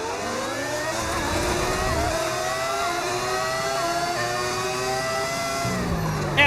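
A Formula 1 race car in the F1 25 video game holds a sustained, loud engine drone with shifting revs as it brakes and accelerates, steady throughout with game audio layered over it.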